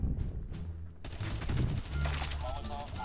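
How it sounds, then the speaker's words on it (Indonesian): Rapid automatic gunfire in Call of Duty, a dense fusillade of close shots that starts abruptly and continues to the end, under someone talking. "Nembak apa, Oce?"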